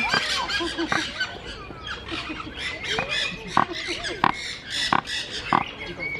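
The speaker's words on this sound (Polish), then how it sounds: "To te ptaki tak chrumkają." Birds at a zoo in Kraków give repeated short grunting, honking calls at an even rhythm, with a voice talking over them.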